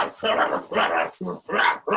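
A voice imitates dogs barking, a run of loud rough bark-like bursts in quick succession, close and dry, mixed with her own comedic speech.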